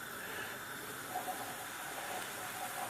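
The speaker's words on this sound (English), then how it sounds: "You can hear them crackling away there." Drained boiled potatoes in a pan back on a gas hob, giving off a steady close hiss of steam with faint crackling, no voices.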